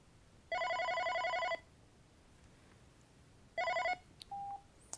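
A Unify OpenStage desk phone rings with an incoming call, two loud electronic ring bursts about a second long separated by a pause, followed by a brief softer tone, with no talking.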